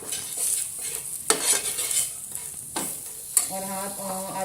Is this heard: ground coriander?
yes